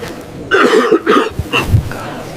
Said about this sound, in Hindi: खांसी लग गई है।